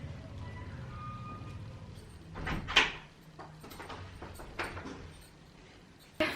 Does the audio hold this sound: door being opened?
yes